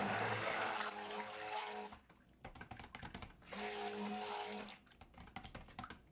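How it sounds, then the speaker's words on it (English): Motorized blender runs in two sustained bursts with a pause between, whirring loudly as soap-making oils and lye are mixed toward emulsion; softer drips and handling noises fill the gap. "We are going to mix this to emulsion."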